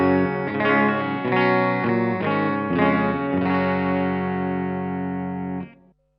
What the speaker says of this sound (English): This is the Iridium on the Fender setting.